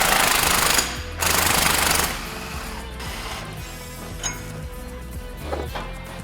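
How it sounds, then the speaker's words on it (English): Impact wrench removing a rear leaf spring bolt, with two loud, close bursts of rattling hammering followed by lower shop noise, a few clinks and a faint mechanical whir. "rear spring bolt coming off."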